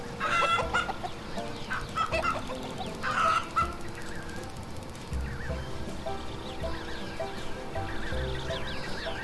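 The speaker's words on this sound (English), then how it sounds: "Look at all those birds." Farm birds in the video game Farm Manager 2018: chickens cluck and squawk densely in a busy barnyard mix, with crowing calls and steady clucking chatter running throughout at fairly high volume.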